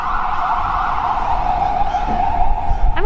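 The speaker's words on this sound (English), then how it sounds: "I'll mention it again once the siren is done." A wailing emergency siren sweeps up and down on a New York City street, loud and near, holding a steady tone over low traffic rumble before a quick yelp at the end.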